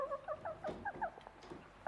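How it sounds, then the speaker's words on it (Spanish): A chicken clucks in short, close bursts, a rapid string of bright calls with soft rustling beneath. "ten cuidado, no se vaya a escapar una gallina"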